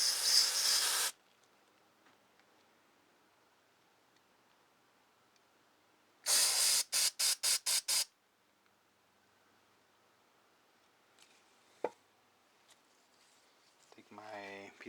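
A long burst of aerosol cleaner hisses through a Tecumseh carburetor, followed by a series of short rapid spray bursts, then quiet with a few faint knocks and a brief voice at the end.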